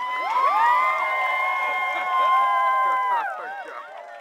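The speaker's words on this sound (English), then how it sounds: "give a great round of applause for Mr. and Mrs. Larson Andrews" Wedding guests cheering for the newlyweds: sustained, loud whoops and shouts that swell, dip and swell again over about four seconds.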